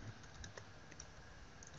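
Keys tapping on a computer keyboard while text is entered into a form, a quiet run of soft clicks spread across the moment, faint and close.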